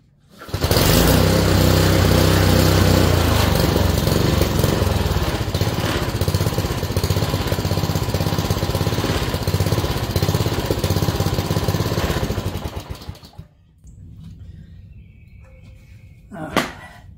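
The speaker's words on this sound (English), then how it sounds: "Just go ahead and put it on full throttle" A Cub Cadet RT65 garden tiller's gasoline engine runs loud and steady at full throttle for about twelve seconds, then cuts out abruptly, leaving quieter faint background noise with a brief knock near the end.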